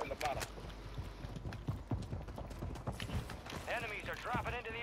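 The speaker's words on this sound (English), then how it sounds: "I hear footsteps." Rapid, rhythmic footsteps in a video game patter in quick succession, with excited voices talking over them toward the end.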